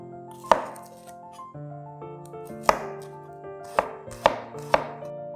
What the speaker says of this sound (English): Chop up 2 cloves of garlic, and an equal amount of shallots.